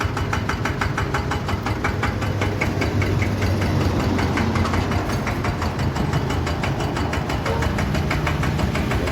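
A brand-new farm tractor engine idles during its break-in run, a steady, loud, knocking diesel chug with an even pulsing rhythm throughout, close up and without speech.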